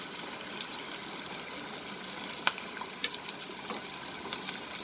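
Onions and chicken frying in a pan as black pepper powder goes in, a steady close crackling sizzle with occasional sharper pops and spatters, no talk.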